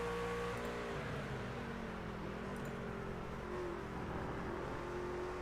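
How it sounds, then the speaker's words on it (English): An on-board view of a race truck's engine in an iRacing truck series event at Watkins Glen gives a continuous loud drone with shifting pitch as the truck drives and revs, and no one talks. "Sounds like he missed a shift, but I can't quite tell, Bennett."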